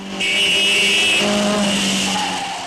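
A Porsche rally car climbing a mountain road in the 1958 Coupe des Alpes passes loudly and close, its engine rising in a strained revving howl with tyre squeal as it pushes hard, then fading slightly.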